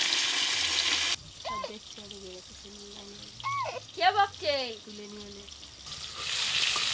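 Vegetables sizzle loudly in a pan with salt and turmeric powder, cooked in a village-style kitchen. The frying fades while a person speaks briefly, then the sizzle returns strongly at the end.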